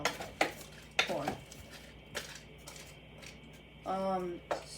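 Corn being stirred in a cooking pot, with a few sharp scrapes and clinks of a utensil against the metal at intervals and a brief rattling burst near the end, heard close and fairly quiet over room noise.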